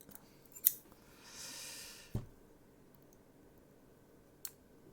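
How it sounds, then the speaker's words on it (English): Very large scissors snipping out a police logo from paper for an N gauge model of a Class 37 locomotive in police livery: a few distinct close, quiet cuts and clicks separated by pauses, with a soft rustle of paper between them. "I'm using probably the biggest scissors known to man here"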